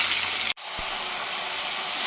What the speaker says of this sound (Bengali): এবার চিকেনটা বসিয়ে দিয়েছি, কষাচ্ছি